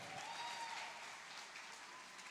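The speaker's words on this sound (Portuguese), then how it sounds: "Palmas para o homem de Deus aqui." A church congregation claps together during a Portuguese-language harvest service, a sustained wash of applause heard from a distance, fairly soft and even throughout.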